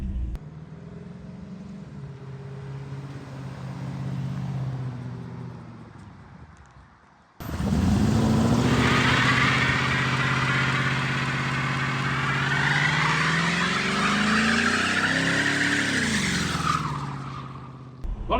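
A Chevy C60 truck fitted with a Silverado chassis on its first drive: engine note rising and falling through gears, then a loud, close, sustained engine drone with wind and road roar filling most of the clip.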